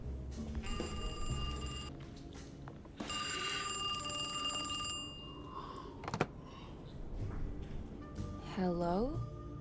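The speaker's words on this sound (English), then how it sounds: "Okay, now the phone's ringing." A telephone rings in repeated bursts inside the horror video game Alone in the Dark, the ringing loud and close, with other game sounds in between.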